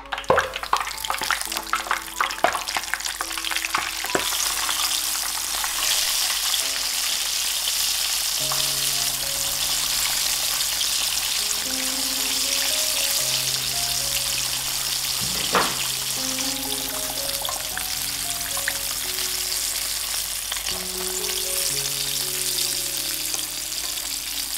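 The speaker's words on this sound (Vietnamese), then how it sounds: "Rồi chúng ta sẽ cho vào chiên nhé." Fish sizzles and crackles steadily in hot oil for the whole stretch, a loud, close, continuous frying hiss with faint tonal background music underneath and no talking.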